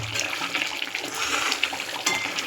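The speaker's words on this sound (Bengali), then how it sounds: "টকবক করে ফুটছে।" Prawn malai curry simmering in a thick, creamy sauce, giving a steady, close, hissing bubbling and sputtering that carries on without a break, with no voices.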